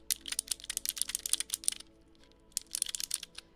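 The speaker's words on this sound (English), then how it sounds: "I like the clickiness of these ones, but I don't think I could have a keyboard full of them." Rapid bursts of crisp clicky mechanical keyboard typing, close and distinct, with a short pause before another quick flurry of keystrokes, in a quiet room without speech.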